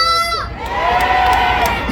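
A crowd at an outdoor tomato festival cheers and shouts loudly, with children's high voices and whoops rising together in a sustained, close roar after a brief voice at the start.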